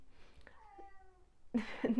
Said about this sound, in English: my cat, currently yelling at me